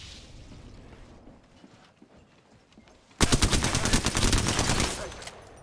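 Rapid bursts of video game gunfire rattle out loud and close, a dense automatic volley lasting a couple of seconds after a quieter stretch of background noise.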